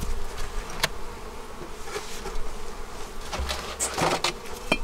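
Honey bees swarm and buzz around an open beehive while it is being split, a steady close drone with individual bees zipping past, no talking.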